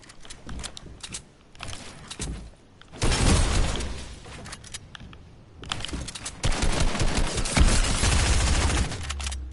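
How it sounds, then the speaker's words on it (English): A charged shotgun fires in a Fortnite match. Loud, close bursts of gunfire and impacts come in dense clusters with short gaps between them, and no voices are heard. "Now this guy has a shotgun, so I'm probably gonna die."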